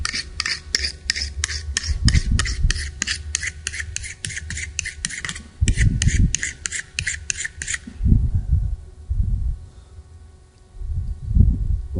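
A blade is sharpened with rapid, evenly paced rasping strokes, close and steady for several seconds, then pausing; low thuds and handling noises follow, with the strokes resuming briefly before falling quiet.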